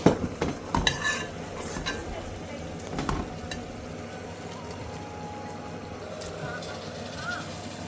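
Masala frying in oil in a pan, a continuous low sizzle with a few sharp scraping stirs and utensil knocks early on, while a person talks throughout.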